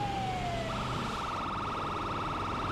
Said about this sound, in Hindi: हॉर्न बजा के जाऊंगा ताकि बंदे हट जाए सामने से।